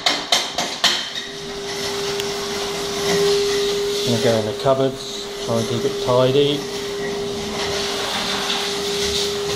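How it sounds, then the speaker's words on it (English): A vacuum cleaner hoovers the floor of a sports clubhouse, a constant droning whine running throughout after a few sharp knocks at the start, with someone talking close by over it. "Mr. Fishy, doing a bit of hoovering."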